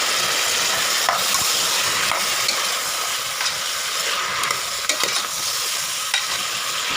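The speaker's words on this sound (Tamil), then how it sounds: "இப்போ நம்ம வந்து காய் போட்டுக்கலாம்." Carrots, beans, brinjal, peas, cauliflower and potatoes for sambar rice sizzle steadily in a hot pan, with repeated close scraping strokes of a stirring spoon punctuating the constant frying hiss.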